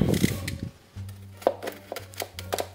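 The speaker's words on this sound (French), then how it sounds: "On a encore besoin du cutter." A utility knife slices through sealed packaging on a boxed collectible statue, giving a few short, sharp scraping cuts close by over a low steady hum, with brief speech at the start.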